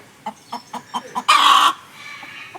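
A seven-colour rooster gives five short, evenly spaced clucks up close, then a louder drawn-out squawk, followed by a couple of faint clucks.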